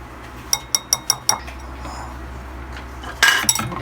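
Puto batter with vanilla being mixed in a bowl, five quick evenly spaced clinks of a utensil against the rim, a quiet pause, then a brief rattling burst of stirring.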